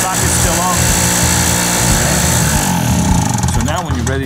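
A portable generator engine cranks over with its electric starter and fires up, running loud and steady for several seconds with a voice speaking over it.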